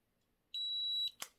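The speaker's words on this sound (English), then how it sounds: "you can hear the beep sound" A single high electronic beep from a cordless automatic hair curler lasts about half a second, followed by a brief click, in an otherwise quiet setting.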